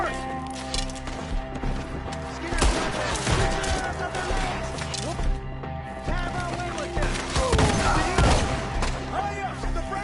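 Gunfire in Red Dead Redemption 2 during a shootout with enemies up in trees, with repeated shots and volleys over a dense game soundscape, while players shout excitedly over the action.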